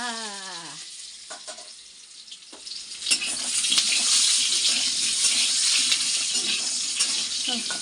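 Potatoes drop into hot oil in a home kitchen. After a few quieter seconds and a brief rising tone, a loud, continuous broadband sizzle takes over and holds steady.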